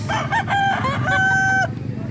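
A rooster crows loudly and close by in one sustained, wavering call lasting over a second, amid a farmyard with low background rumble and a few softer clucks around it.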